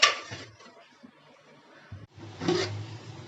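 Quiet clinking of cookware, then a metallic clatter as a lid settles onto a pot of mango and tamarind sambar, close by.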